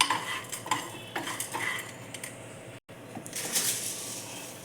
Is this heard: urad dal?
yes